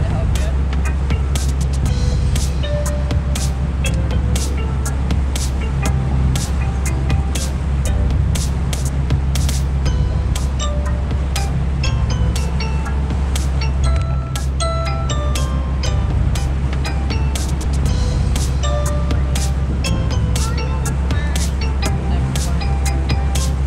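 A motorboat cruises on Lake St Clair with a loud, steady engine rumble, while water slaps and clinks against the hull throughout and people talk over it.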